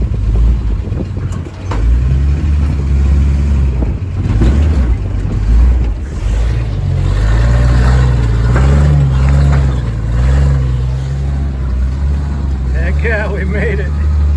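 A 1948 Chevy dump truck drives off-road through a mud hole with its engine droning loud and close. Its low rumble holds steady throughout, and people talk over it.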